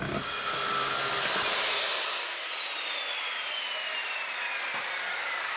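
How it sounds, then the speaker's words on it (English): A 26-inch offcut of 2x3 lumber is hand-sawn to width for a wooden bike stand, with rough rasping strokes building in the first two seconds, then a steady rubbing hiss as the cut finishes. "take your leftover 26-inch piece of 2x3 and cut it to fit the exact width of the 2 horizontals with the spacer in between them"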